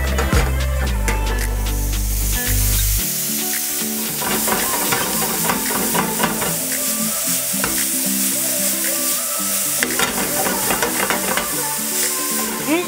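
Fruit frying with butter and sugar in a pan for French toast, caramelizing with a steady close sizzle and crackle, a low bubbling hum at the start, no voices.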